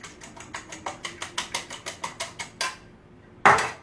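A whisk beats eggs in a bowl for a cheese omelette, giving about fourteen quick, even clicking strokes, then a pause and one final louder clack, close and clear with no talking.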